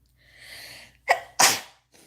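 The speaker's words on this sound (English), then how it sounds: "Oh my gosh, I'm gonna sneeze again." A woman sneezes at home, a short sharp burst after a drawn-in breath, close and loud, then a faint sniff.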